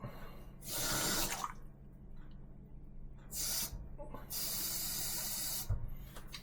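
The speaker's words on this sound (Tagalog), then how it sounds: "Lagyan po natin ng tubig. Konting-konting tubig lang po." A little water is poured into a pan of longganisa sausages, heard as three short hissing splashes separated by quiet gaps over a low background hum.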